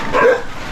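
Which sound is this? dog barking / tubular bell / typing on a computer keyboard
dog barking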